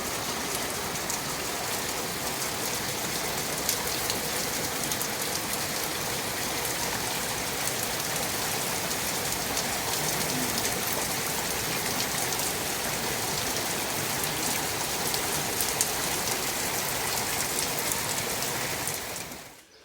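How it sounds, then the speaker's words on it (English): Steady rain pours down on a cave house in Spain, a dense, unbroken hiss of drops hitting surfaces, close and constant throughout, fading out at the very end. "Well, it's raining."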